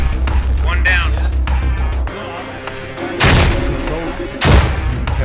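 Frag grenade explosions in the tactical shooter Squad, with two loud broadband blasts bursting out about a second apart in the latter half over a background of gunfire and vehicle rumble, and voices talking throughout.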